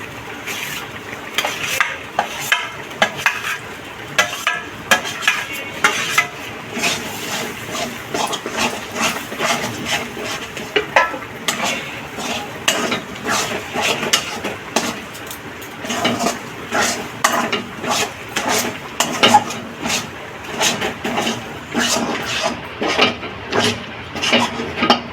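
Elephant foot yam pieces stirred in hot oil with turmeric in a home kitchen, a spoon scraping and clattering against the pan in steady repeated strokes over a faint sizzle, close and fairly loud.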